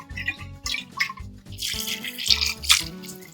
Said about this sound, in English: Need that 6 cups of bouillon or water.